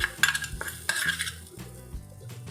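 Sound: spoon scraping and mixing in dish

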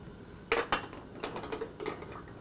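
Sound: glass canning jars clinking in pot of boiling water

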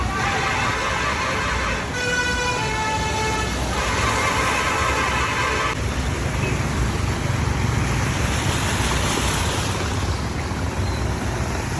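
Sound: rushing flood water

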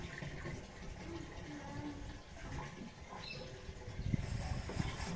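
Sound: water filling a metal pot

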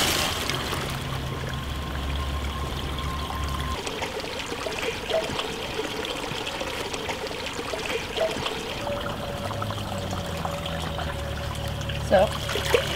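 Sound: water poured into filter pack

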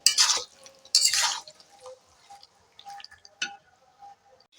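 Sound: stirring chicken meat in a pan over medium heat

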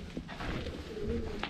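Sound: pigeons cooing inside an old fort

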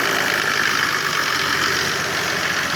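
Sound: Mercedes OM606 turbo diesel engine running

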